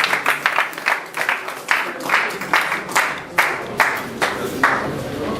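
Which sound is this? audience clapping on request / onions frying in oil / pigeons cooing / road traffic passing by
audience clapping on request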